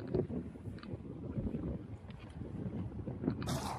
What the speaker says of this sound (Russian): ветер так ветер, аж весло из рук вырывает